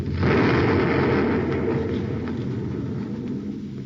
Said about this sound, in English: fired a torpedo.